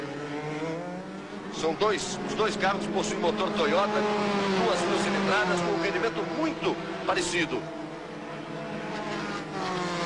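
Formula 3 race cars with Toyota 2-litre engines lap Silverstone in 1983, their engines rising and falling in pitch as they pass, heard beneath continuous Portuguese race commentary.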